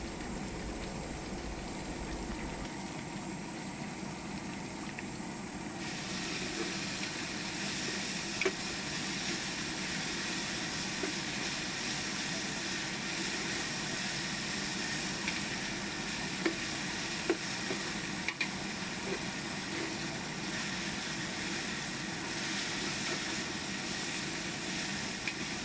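Ginger garlic paste frying and being stirred in a hot pan for Afghani kabuli pulao with beef, giving a steady, close sizzle with scraping stirs that grows louder after a few seconds and continues throughout.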